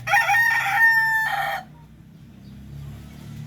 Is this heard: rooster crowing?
yes